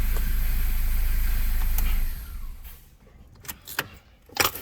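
A 2012 Ford Focus, just repaired after a no-crank, no-start fault, idles with a steady low rumble up close for about two seconds, then the engine sound drops away, leaving a few scattered clicks and knocks.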